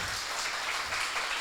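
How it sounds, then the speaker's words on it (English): An audience at a poetry book launch gives a round of applause, a soft, steady patter of many hands clapping at a distance. "Can we have a round of applause for Maaz?"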